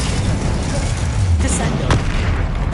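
Spell blasts in Hogwarts Legacy give a rumbling low boom and a couple of sharp pops, set within dense game noise and a voice.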